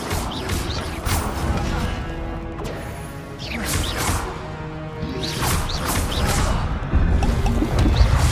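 Fiery Incendio spell cast in the Hogwarts Legacy video game, heard as loud whooshing crackle and crashing bursts under a shouted voice, with repeated impacts across the scene.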